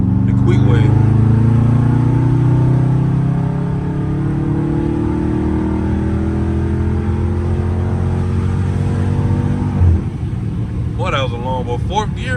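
A loud Scat Pack car pulls hard along a country road, its engine droning steadily through a long gear before the pitch breaks with a shift, and a voice briefly speaks near the end.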